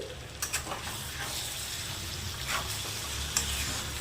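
Garlic chicken with green chillies and curry leaves is stirred in a pan: a steady frying sizzle with a few scraping knocks of the spoon at the start and scattered through.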